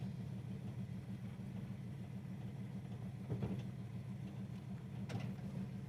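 A 1968 Chevelle SS 396 convertible's V8 idles steadily while warming up, a low, even rumble heard from a moderate distance with no one talking.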